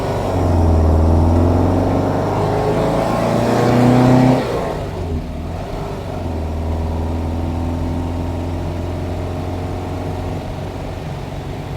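A 1971 VW Square Back with freshly bled brakes drives along, its engine note rising in pitch as it accelerates, then easing off and settling into a steady, moderately loud hum.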